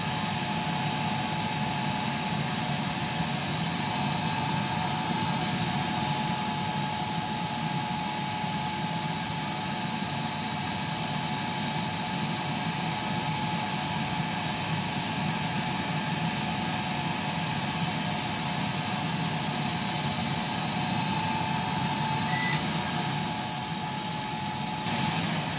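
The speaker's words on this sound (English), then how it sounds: "So these are, you'll notice, roughing passes using a finishing tip." CNC lathe taking roughing passes with a finishing tip on 14 mm stainless steel bar, turning it down toward 6 mm; a steady machine whine and hum runs throughout, with brief louder surges near the start and the end.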